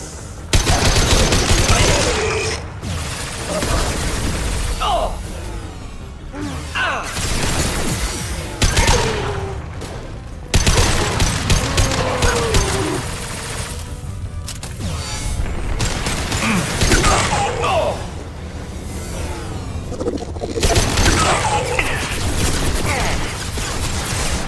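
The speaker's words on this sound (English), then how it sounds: "Firing a high-impact shot!" Heavy-weapon gunfire in the video game Mass Effect 2: loud, dense bursts of shots and blasts roll through the whole stretch, with sharp impacts and mechanical clatter in a chaotic battle mix.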